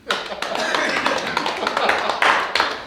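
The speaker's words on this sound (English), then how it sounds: "And we'll clap our hands for you." Hands clapping steadily and densely for about three seconds, fairly loud and close, with a few stronger claps near the end.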